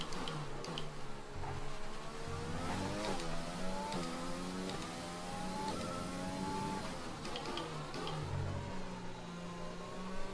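A Formula 1 car in the racing game F1 2020, on a wet Baku street circuit, its engine at full throttle with a loud, close, high whine that climbs and drops through gear changes without pause.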